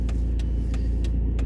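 A bus stuck in street traffic holds a steady, loud low engine rumble up close, with faint periodic ticking pulses on top and no talk.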